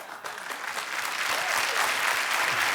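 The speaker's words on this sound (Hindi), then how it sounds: "आप सबकी जोरदार तालियों के बीच मिसेस नीतू सिंह कपूर जी का।" An audience applauds to welcome a guest onto a talk show stage, clapping that swells from moderate to loud and full over a few seconds.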